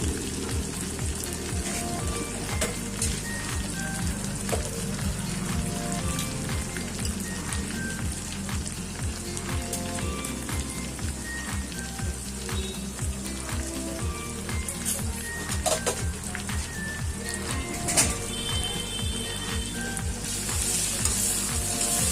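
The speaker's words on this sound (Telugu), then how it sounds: "నూడిల్స్ ఫ్రై చేస్తున్నాను." Noodles frying in oil with onions, green chillies, curry leaves, cumin and mustard seeds, a dense continuous sizzle like heavy rain with constant stirring clinks and scrapes close by.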